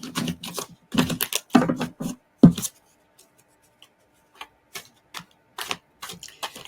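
Tarot cards being shuffled by hand, giving a run of quick crisp riffling bursts up close in the first few seconds, then sparse soft taps and flicks as the cards settle, with no talking.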